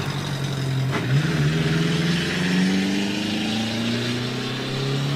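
A vintage Austin Ulster Sports car at a hill climb, its small engine revving loudly and close, the pitch climbing steadily through the gears in a rising, buzzing howl.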